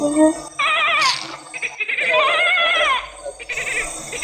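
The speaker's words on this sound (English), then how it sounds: "it's like I'm hearing the sound of our goat crying" A goat bleats loudly and close by, with long wavering cries that rise and fall across several seconds, backed by a faint rustle of background noise.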